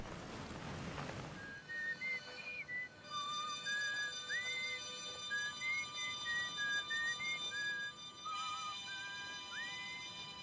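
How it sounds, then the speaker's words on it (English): Someone whistles a wandering tune in the space exploration video game Outer Wilds, a string of clear, sliding high notes in short phrases over a soft wash of wind and ocean waves. "Who the fuck's whistling?"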